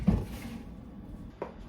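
A kitchen drawer slides with a short thump at the start, then quiet, then a second softer knock as it shuts, close by with no talking.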